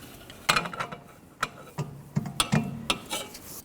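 A long breaker bar on an M18 triple-square bit works loose the rear hub bolt of a 2006-2010 Volkswagen Jetta, giving a series of sharp metallic clicks and clacks in an irregular rhythm, close up and with no talk.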